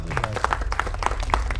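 An audience claps for a debut actor at a film cast and crew introduction, giving a dense, steady patter of many hands close by with no talking over it.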